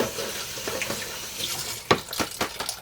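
A kitchen tap runs while a knife is rinsed under it, giving a steady close splash with brief louder spatters as the blade moves through the stream.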